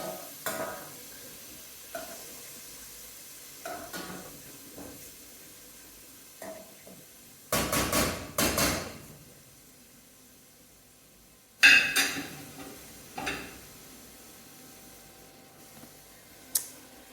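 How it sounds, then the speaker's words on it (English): Cabbage sautéing in a pan with a soft, steady sizzle, broken by stirring scrapes and clatters of utensils against the cookware, including two louder bursts midway; someone talks quietly now and then. "So yeah, just sauteing it."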